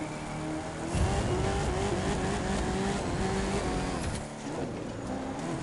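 A car drifting on dirt in The Crew 2, its engine droning and revving steadily while tires slide and scrabble through turns, sustained and close throughout with no voices.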